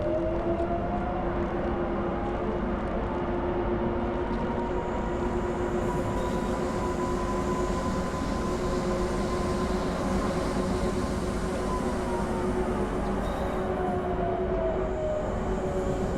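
ÖBB 1044 electric locomotive on the Semmering line in Train Simulator 2016 runs with a steady, loud rumble and rolling noise. A sustained motor whine slowly bends in pitch throughout.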